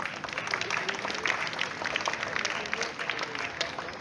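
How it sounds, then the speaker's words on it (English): Applause from a school assembly audience at a morning presentation, a steady dense patter of clapping mixed with voices, filling the whole stretch at moderate level. "Just give a huge round of applause for them."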